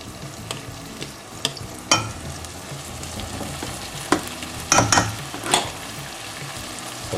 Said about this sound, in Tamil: நம்ம அடுத்தது ரைஸை போடுறோம்.